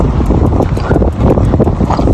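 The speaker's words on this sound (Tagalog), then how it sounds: "Malakas yung hangin, oh." Strong wind gusts buffet the microphone on a mountain trail near Riyadh, Saudi Arabia, a loud roaring rumble that swells and dips.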